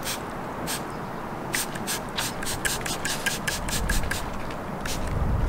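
A series of short, hissing spray bursts of quick detailer onto a car, quick pumps in an irregular rhythm, close up against a faint steady background noise.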